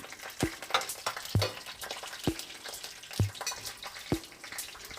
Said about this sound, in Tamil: பூண்டு நல்லா ஃப்ரை ஆகட்டும்